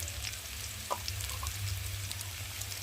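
Taro and potato pieces frying in oil for a tilapia curry, giving a steady, fairly quiet sizzle with a few soft crackles and no talk.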